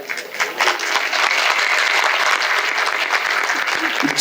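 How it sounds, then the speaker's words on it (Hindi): A crowd at a Hindi poetry recital applauds on cue, steady loud clapping sustained across the whole moment with no pauses. "एक बार आगे से पीछे तक चेतना की तालियां मुझे आपकी चाहिए।"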